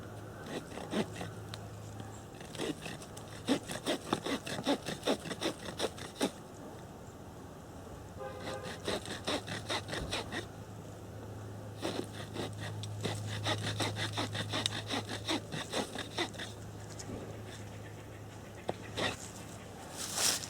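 Serrated spine of a Camillus Carnivore machete sawing into wood in rhythmic back-and-forth strokes, fairly faint and close, coming in several bursts with short pauses.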